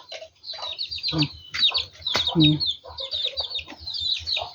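Chickens cluck and chirp in a rural yard, with repeated short calls coming close together, while people talk over them.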